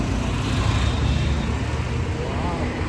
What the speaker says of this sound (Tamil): ஐயா தண்ணி லாரி போகுது.